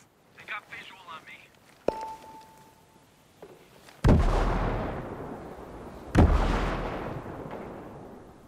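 Two heavy, booming gunshots in Tom Clancy's Ghost Recon Breakpoint PvP ring out a couple of seconds apart after some quieter chatter and a brief tone, each trailing off in a long echo.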